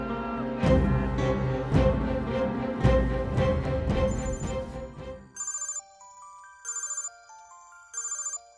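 A phone ringtone plays in a Telugu film scene, repeating in short melodic bursts with gaps, following a loud stretch of music and sound effects.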